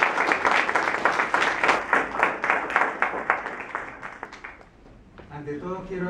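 An audience at a book presentation for the novel Gritos en Silencio gives a strong round of applause to welcome a speaker. The claps come in a fairly even, pulsing rhythm, fade after about five seconds, and a voice then begins speaking.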